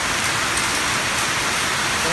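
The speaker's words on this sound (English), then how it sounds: "now I apply my water" A firefighting hose nozzle set to a 30 degree fog pattern sprays water in a continuous, loud, dense hiss, close by and unbroken throughout, with no talk over it.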